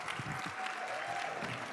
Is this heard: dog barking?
no